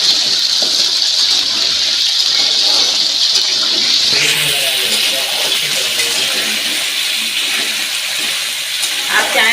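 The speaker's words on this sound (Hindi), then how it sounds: "फ्राई करना है आलू को" Potatoes fry in hot oil with a loud, steady sizzling hiss that shifts in texture partway through, while a voice speaks faintly near the end.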